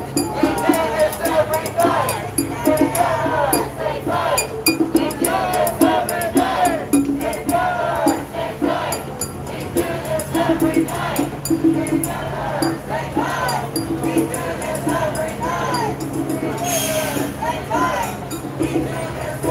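Protest crowd marching through LA's Fairfax District, with a dense, steady roar of many voices, chanting and shouting, and scattered clinks and knocks throughout.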